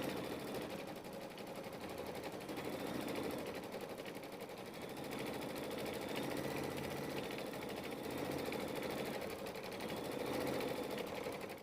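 A sewing machine stitches a butterfly quilt block. It runs continuously and evenly for the whole stretch, a close, steady mechanical hum with a fast needle rhythm.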